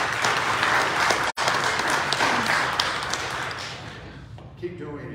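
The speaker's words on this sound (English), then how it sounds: "I think we need to give those folks a round of applause." A Sunday worship congregation gives a round of applause, dense clapping from many people that holds for several seconds and then thins out, with a voice coming in faintly at the end.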